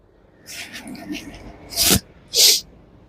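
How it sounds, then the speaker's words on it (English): Two short, sharp breathy bursts near the microphone, like quick sniffs or a snort, after some faint hissy rustling. "Sorry if I'm sniffing"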